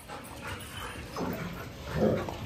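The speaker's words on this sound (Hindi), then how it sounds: "रियो और जूही भौंक रहा है" A Rottweiler gives a couple of muffled, low woofs and whiny yips a short distance away, spaced about a second apart over a soft background.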